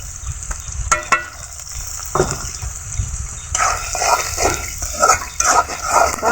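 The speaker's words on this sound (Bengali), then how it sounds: "এগুলোকে ছুনির সাহায্যে নেড়ে চেড়ে হালকা ভেজে নিতে হবে" Onion and green chili frying in a pan with salt, chili powder and turmeric, a steady sizzle under scraping stir strokes that grow busier in the second half; a dog barks briefly near the start.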